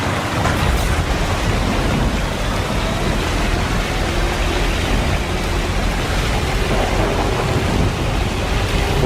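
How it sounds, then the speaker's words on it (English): Thunderstorm in the video game Death Stranding: steady dense rain with rolling thunder rumbling underneath, loud and continuous throughout with no speech. "Oh look, there's a big storm over,"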